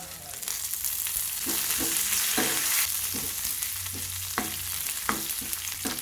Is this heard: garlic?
yes